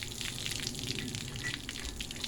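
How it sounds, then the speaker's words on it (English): Air from a compressor blows water off a Mercruiser 4.3 V6 boat engine, a steady close hiss and spray with no pauses and no voices. "I'm going to turn my air compressor on and we're going to blow this thing dry."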